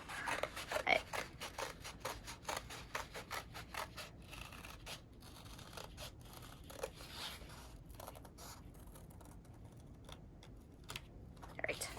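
Scissors snip and slice through colored paper while cutting out a circle for a paper hot air balloon craft, a rapid run of close crisp cuts and rustles that thins out toward the end.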